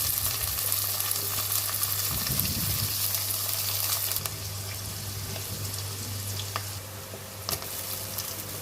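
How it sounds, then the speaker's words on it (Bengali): Onions frying in oil in a home kitchen pan, a steady close sizzle with broad hiss, some stirring scrapes and a low hum beneath, with no talking. "পেঁয়াজ দিয়ে দিলাম চুলায় তেল আর পেঁয়াজ পেঁয়াজটা ভাজা হয়ে গেলে"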